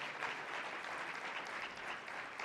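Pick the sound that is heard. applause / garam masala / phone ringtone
applause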